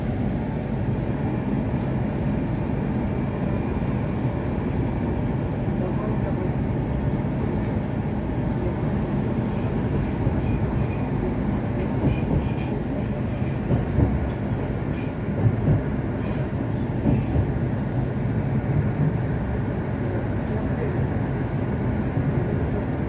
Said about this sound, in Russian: Отправление со станции Кунцевская на поезде Москва.